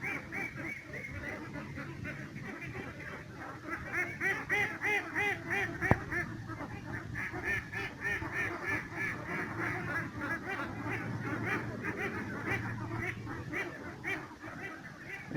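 Ducks quack steadily and densely from a flock kept on a pond used for duck and catfish farming, a continuous chorus of overlapping calls at moderate distance with no speech.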